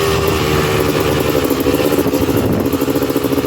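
A Honda TRX330R ATV engine revs steadily and loudly up close while being ridden, with a continuous mid-pitched buzzing drone and rhythmic throttle pulses that swell and ease slightly throughout.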